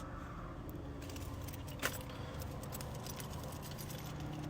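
Keys jangle briefly inside a mint 1991 Nissan Skyline GTR (BNR32) while someone hunts for the car key, a small close metallic rattle with one sharp clink amid steady low background hum.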